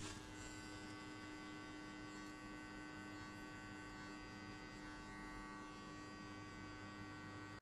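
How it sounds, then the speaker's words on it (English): An electric hair clipper runs steadily through a skin fade haircut, giving a close, continuous buzzing hum with no breaks and no talking. "We close the clipper halfway and we hit only on the middle."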